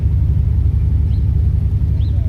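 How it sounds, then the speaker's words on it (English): A Ford Raptor truck's 5-liter engine idles with a loud, steady low rumble close by, smooth and continuous over a couple of seconds with no voices. "But he's got that 5-liter, sounds really good."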